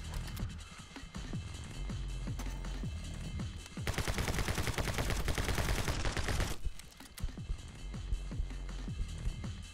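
Rapid video game gunfire fired while dodging, a dense run of sharp shots that swells into a sustained loud burst midway, then thins to scattered shots.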